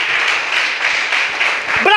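A church congregation claps loudly in a dense, continuous burst of applause that fills the room, with a voice breaking in at the end.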